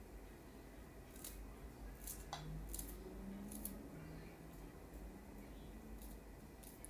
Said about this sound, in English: now I'm just going to cut pieces into the bowl